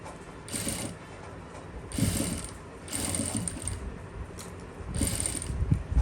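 A sewing machine stitches gathered lace onto fabric in short bursts of rapid mechanical clatter, four runs of about a second each, separated by brief pauses with a faint hum.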